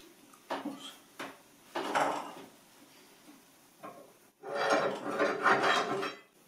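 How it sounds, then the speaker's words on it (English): A metal file rasps against a metal bar being fitted to a wooden leg vise for a workbench, several short strokes followed by a longer, louder run of steady scraping, close by with no talking. "after some minutes working with the file, now the bar enters and it slides easily"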